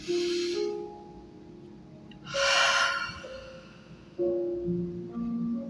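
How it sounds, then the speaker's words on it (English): A person takes a deep breath in and out during a guided breathing exercise. Two long, audible exhalations like sighs, near and clear, sit over a faint sustained tone in the background. "One breath in."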